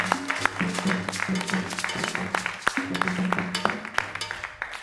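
Audience applause in a hall welcoming the head of Insura Sports onto the stage, a dense steady clapping with sharp individual claps, accompanied by low hum or music underneath.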